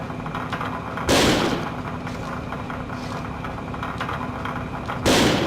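Two loud gunshots ring out about four seconds apart during shooting training in the video game Second Sight, over a steady mechanical hum.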